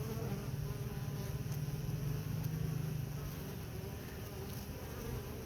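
Honeybees buzz steadily and softly around a hive as they bring in pollen, a continuous close insect drone with no talking.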